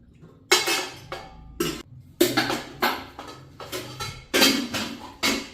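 Dishes and metal vessels are handled close by, probably during washing up, in a run of sharp clattering clanks and scrapes that come in irregular bursts separated by short quiet gaps. No one speaks.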